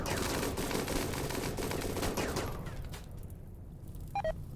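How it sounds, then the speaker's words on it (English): Rapid gunfire from a RimWorld colony battle against pirates, dense overlapping shots for a few seconds that thin out into sparser, scattered fire toward the end. "Keep shooting them."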